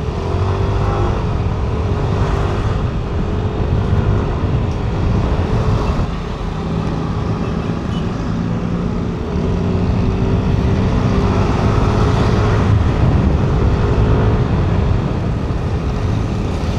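A Yamaha NMAX V3 scooter engine with variable valve actuation drones loudly throughout, its pitch rising and falling as it accelerates, with heavy rushing wind noise and no talking.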